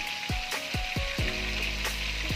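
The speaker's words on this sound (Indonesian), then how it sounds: "saya lanjut akan menggoreng tahunya" Tofu dropped into hot oil for tofu and tempeh bacem, frying with a steady loud sizzle and repeated sharp clatters as pieces go in, alone without talk.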